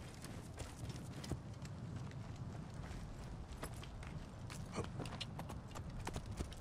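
In Assassin's Creed Origins, a horse's hooves clip-clop in a steady walking rhythm, faint and continuous, with sharp individual hoof strikes over a low rumble.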